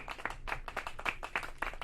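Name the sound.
hand clapping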